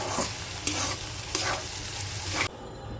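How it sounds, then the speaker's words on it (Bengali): Bottle gourd peel frying with chopped coriander is stirred in a pan: a steady close sizzle with several scraping stir strokes, ending abruptly as the heat drops away. "ধনিয়া পাতা কুচি দিয়ে একটু নাড়াচাড়া করে নামিয়ে নিব লাউয়ের চোকলা ভাজি"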